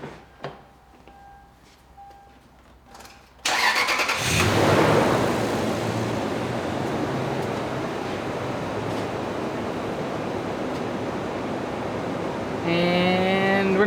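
Toyota 4.7 V8 with a misfire cranking and firing up after a quiet moment, then settling into a loud steady idle close by, with a brief revving surge near the end.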